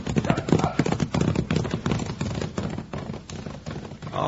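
Hooves of the horse Roan clip-clop at a quick, steady trot in a radio drama effect, loud and close, thudding evenly with an occasional whinny underneath.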